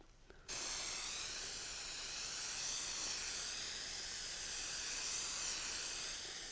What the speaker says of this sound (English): I've discovered spray adhesive.